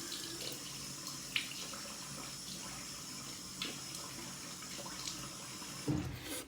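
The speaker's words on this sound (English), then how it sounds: "Rinsed warm, rinsed cold." Tap water runs steadily into a sink as a face is rinsed with warm and then cold water, a continuous close splashing hiss with small splashes and knocks.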